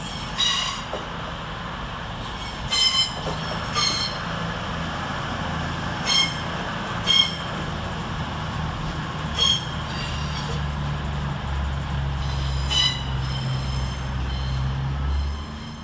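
A CrossCountry Class 220 unit, 220033, pulls out of Manchester Piccadilly station with a sustained low engine drone and rail rumble, punctuated by several sharp wheel squeals and clicks at irregular intervals, close by and without voices.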